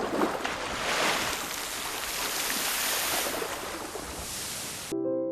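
Steady broadband ocean wash surrounds a small boat drifting aimlessly on open sea, a continuous rushing of waves and water with no voices, cutting off abruptly near the end.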